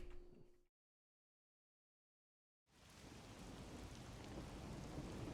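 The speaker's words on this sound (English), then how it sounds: "The faint sound of a ticking clock melts against the sound of rain." Steady rain falls in the video game Master Detective Archives: Rain Code, a dense wash of droplets that swells in after a brief silence, preceded by a short burst of other game sound.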